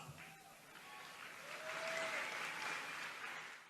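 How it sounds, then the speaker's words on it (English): Faint applause from an audience at a political speech, heard as a distant wash of clapping that swells slightly in the middle and then fades, thin and low in level. "he did get a little bit of an applause towards the end of that clip there"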